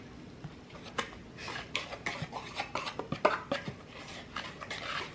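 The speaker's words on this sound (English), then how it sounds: "So now I'm gonna mix it with a whisk" Ingredients for cinnamon roll dough are whisked in a bowl, giving a quick run of close scraping, clattering strokes that grow busier and louder midway before easing off, with no voices.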